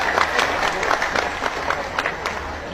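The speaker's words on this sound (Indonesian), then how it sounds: "Tepuk tangan ya." A short burst of clapping from a small crowd at an Indonesian speech, brisk and uneven, fading slightly toward the end.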